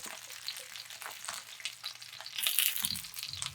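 Stuffed green peppers sizzling and frying in oil in a pan for Chinese dim sum, a close crackling spatter with rising bursts of hiss, no voices.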